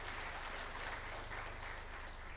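An audience at a World Press Freedom Day forum in Arusha applauds the Prime Minister, a dense, steady clapping that sounds somewhat distant and fills the whole moment without any voices.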